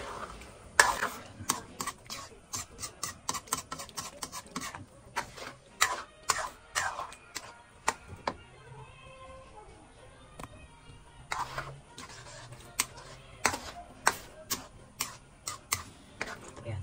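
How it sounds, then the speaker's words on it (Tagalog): A spoon clinks and scrapes against a pot while stirring a sticky suman rice mixture with added water, giving a steady run of sharp taps and scrapes, close and clear, with a short quieter pause in the middle. "Tapos haluin lang natin."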